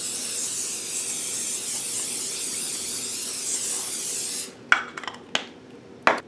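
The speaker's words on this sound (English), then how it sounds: "I have some nonstick or some cooking spray and some salt, and I'm going to spray them." Cooking spray hisses steadily from an aerosol can onto corn tortilla triangles for about four seconds, close and constant, followed by a few short clicks and knocks of handling.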